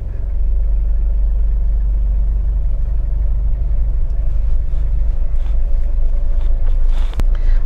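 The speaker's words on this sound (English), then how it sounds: "you can feel the engine is running and there is lot of engine noise inside." Toyota Qualis engine running as heard from inside the cabin, a steady loud low rumble and drone that holds throughout with a faint click near the end.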